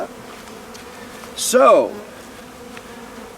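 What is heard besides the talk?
honeybees buzzing during hive installation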